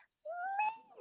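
A voice imitates a cat's meow during a yoga cat pose, giving one drawn-out, rising-and-falling meow at moderate loudness.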